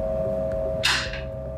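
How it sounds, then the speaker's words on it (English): Rotork IQ3 valve actuator hand wheel disengaging as the unit runs electrically: a single brief mechanical clack stands out over a steady low hum and whine. "the mechanical noise you hear is the hand wheel disengaging"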